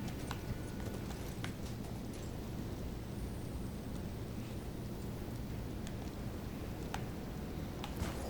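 Horse hooves clip-clopping on a beach in the Elden Ring video game, a steady rhythmic trot of muffled footfalls over a low rumbling ambient bed, fairly quiet with no talk.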